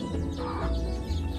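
Village hens cluck in short, low, throaty bursts nearby in a rural Konkan yard, with a brief continuous run of calls.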